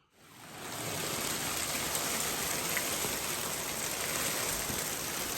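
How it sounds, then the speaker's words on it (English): Heavy rain and hail pour down in a steady, dense hiss that swells in within the first second and holds evenly throughout, with no distinct thunderclap standing out. "Hail, thunder and lightning."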